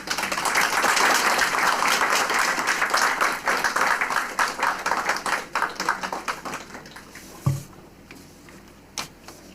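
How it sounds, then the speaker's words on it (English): Audience applause at a climate action conference welcoming a guest to the stage, dense clapping that thins into scattered individual claps and trails off. "With a round of applause, please"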